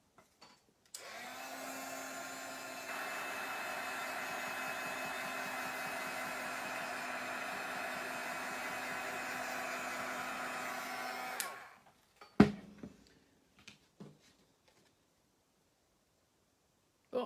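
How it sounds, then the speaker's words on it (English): A hair dryer blows on wet crackle paint, a steady whirring drone that starts abruptly, runs for about ten seconds and cuts off, followed by a few light knocks and clatters. "I'm just going to dry my paint a bit more."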